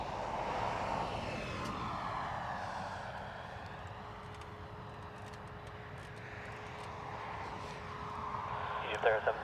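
An EgyptAir A320neo airliner departing Dublin Airport gives a sustained, fairly distant engine roar with a steady tonal hum, fading gently as it goes, and a voice talks over it.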